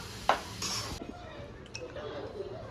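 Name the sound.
stirring carrots in a pan for gajar halwa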